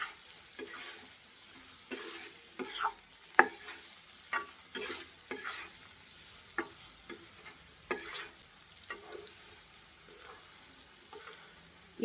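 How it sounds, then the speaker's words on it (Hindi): Chopped capsicum being stirred into a sizzling mixture in a pan, with the spoon making a series of sharp, irregular scraping knocks close up over a soft, steady frying sizzle. "सभी चीज़ों को हम अच्छे से मिक्स कर लेते हैं।"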